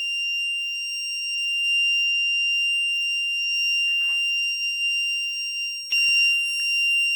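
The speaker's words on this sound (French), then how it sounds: "Là, on a le déclenchement d'un signal sonore par le buzzer." A buzzer on a homemade distance sensor gives a steady, piercing electronic tone that sounds throughout when a toy figure crosses the distance barrier. Faint handling knocks and a sharp click occur near the end.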